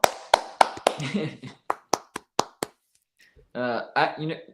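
A livestream host claps his hands close to the microphone, about a dozen sharp, separate claps in an uneven rhythm, then a pause before he starts speaking.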